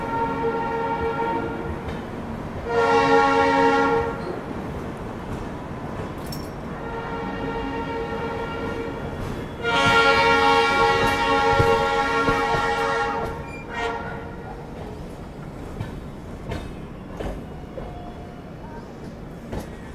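A meter gauge passenger train running on a rural route, a steady rumble of wheels and carriages under two long, loud horn blasts, the second sustained for about three seconds.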